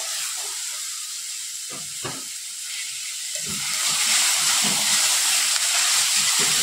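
Capsicum and tomato sautéing in a pan over a medium gas flame, a steady hiss of frying that swells louder partway through, with a few soft utensil knocks and no speech.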